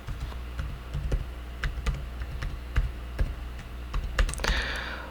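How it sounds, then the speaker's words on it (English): Fingers type a password on a computer keyboard to log into MySQL, with a steady run of close, crisp key clicks over a low background hum. "now I'm gonna type in my password"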